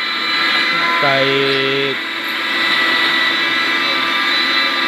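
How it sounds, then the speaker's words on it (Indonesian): A CNC machine cutting speaker holes in a planar speaker box gives a steady, loud, high-pitched whine that runs unbroken throughout, with a brief spoken word briefly heard over it. "pembuatan lubang speaker ini sudah menggunakan mesin CNC"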